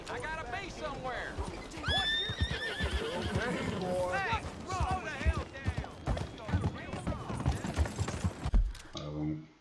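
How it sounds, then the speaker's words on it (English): A horse neighs and whinnies repeatedly in Red Dead Redemption 2, with hoof clip-clops and in-game voices talking over it, steady and close throughout. "Cavalo caro da bexiga."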